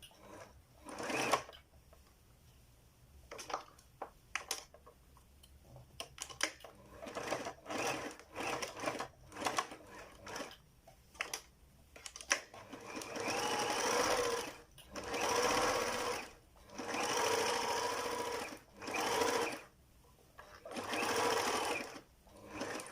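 A sewing machine stitches a fabric face mask, starting with short stop-and-go bursts and moving into longer steady runs of rapid needle clatter, close and fairly loud, with pauses between passes.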